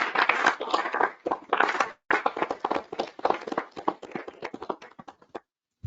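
Audience at a town board meeting claps together in a dense, steady burst that runs for several seconds, then trails off into scattered last claps before falling silent.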